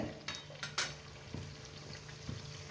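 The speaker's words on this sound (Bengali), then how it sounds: "একদম লো ফ্লেমে দিয়ে ভাজছি এটাকে" Dough frying in oil over a low flame, a steady soft sizzle with a few sharp utensil clinks and light stirring scrapes near the start, no voices.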